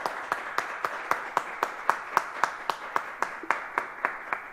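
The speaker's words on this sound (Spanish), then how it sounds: "pido un aplauso para Manuel" Steady, evenly spaced claps ring out, sounding like a small group applauding in a regular rhythm, fairly faint and alone.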